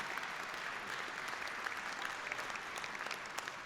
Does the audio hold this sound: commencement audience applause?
yes